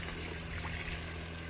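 Hot shower water runs steadily in a camper setting, a constant close splashing trickle with no pauses and no speech.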